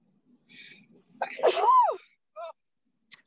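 One loud, close sneeze with a sharp intake before it, followed by small vocal sounds and a brief faint voice afterward.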